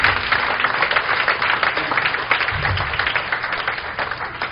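A church congregation clapping in praise during a Sunday service, a thick, steady wash of many hands clapping at once for several seconds.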